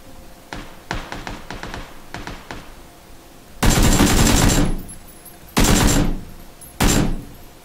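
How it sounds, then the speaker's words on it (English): AK rifle fire in the battle royale game PUBG, starting with a quick volley of sharp cracks, then three louder, longer bursts of automatic fire with short pauses between them. "I'm spamming AK rounds."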